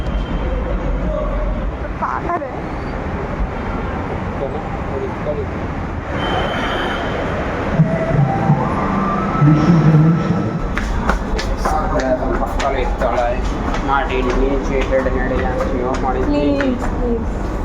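A Kolkata metro train rumbles along with a deep continuous roar, rattling carriages and some high wheel squeal, while people talk nearby over the noise.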